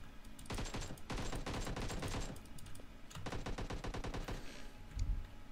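Rapid automatic gunfire in the shooter game PUBG Mobile played on PC, two long sustained bursts of rattling shots separated by a brief pause, loud and close with no talk.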